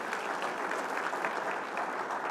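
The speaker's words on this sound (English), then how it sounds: "So let's just give them an applause." Church congregation applauding the ministry team during a live-streamed service, an even, dense patter of many hands clapping, sustained and somewhat distant at low level.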